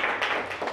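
A primary-school English class claps for a pupil, a short burst of many hands applauding together in a classroom, steady and fairly close with no talking over it.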